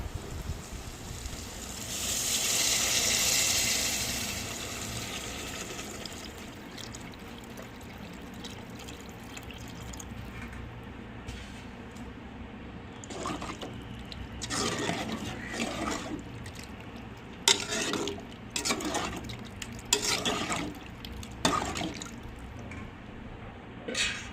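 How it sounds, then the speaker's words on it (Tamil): Tamarind water poured into brinjal frying in oil, a loud rushing pour early on, then a spoon stirring the pan with clatters and liquid sloshing, close and with no talk. "இப்போ புளி ஊற்றி கத்திரிக்காய் புளி கரைச்சி வச்சிருக்கோம்,"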